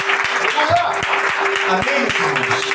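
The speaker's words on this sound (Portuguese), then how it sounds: "Aplauda ao Senhor em nome de Jesus." Congregation applause at an evening church service praising the Lord, a steady broadband patter of hands running under a voice addressing the crowd in Portuguese.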